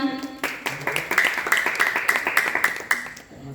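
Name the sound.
audience applause welcoming a speaker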